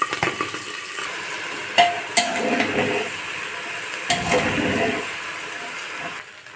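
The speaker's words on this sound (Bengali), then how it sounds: "চালটা ভাজা ভাজা হয়ে এসছে" Rice with small cardamom, bay leaf and a little onion frying in a pressure cooker for biryani: a soft steady sizzle broken by occasional scraping stirs and clinks of a spoon against the pot, with no voices.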